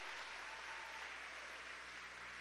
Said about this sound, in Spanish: Fuerte el aplauso para Fabiola José